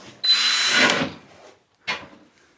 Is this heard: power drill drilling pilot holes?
yes